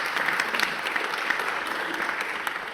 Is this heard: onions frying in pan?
no